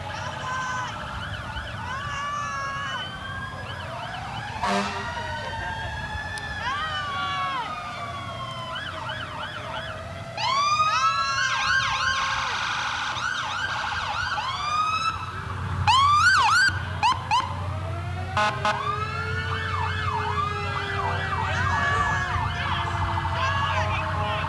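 A 1940 fire truck in a Memorial Day parade in Royal Oak sounds its sirens, repeated rising and falling wails that swell louder midway over a steady outdoor background rumble.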